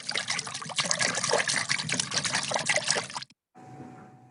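Water splashes and trickles loudly and continuously as animals swim across a river, then cuts off abruptly. A faint hum follows the brief gap.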